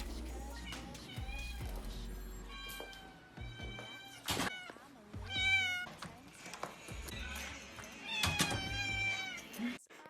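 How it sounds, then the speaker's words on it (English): A pet cat loudly meows and yowls in a home as its owners return, repeated insistent cries in bursts, close by, with thumps and a voice speaking in between. "she still loves to scream and meow at us whenever we come back"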